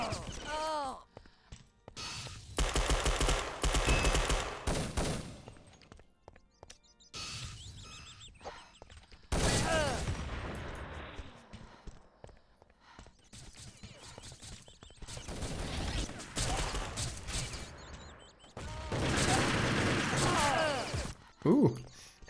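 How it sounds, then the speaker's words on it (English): Negev machine gun fired during a competitive capture-the-flag video game match, with several long sustained bursts of rapid automatic fire separated by short pauses, loud and close, with a commentator talking between bursts. "RKQ playing with the Negev"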